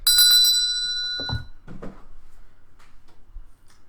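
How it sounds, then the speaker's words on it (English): A bell rings out clearly during a Halloween-themed cooking show: a few quick bright strikes with a ringing decay, followed by a couple of dull knocks and quiet room sounds. "So, what's that bell for, Val?"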